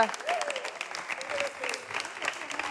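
Steady applause from a studio audience at the Ivorian comedy show C' DJINZIN, dense clapping throughout with a little crowd noise mixed in.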